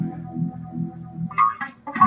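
A distorted, buzzy synth tone pulses low, then its timbre shifts brighter as a filter, controlled by hand motion with a Hot Hand controller, sweeps open and closed in uneven motions.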